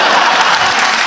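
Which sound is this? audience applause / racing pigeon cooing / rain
audience applause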